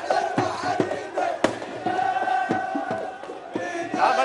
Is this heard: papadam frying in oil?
no